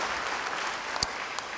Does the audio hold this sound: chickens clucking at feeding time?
no